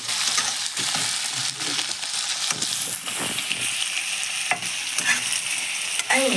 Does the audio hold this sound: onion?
yes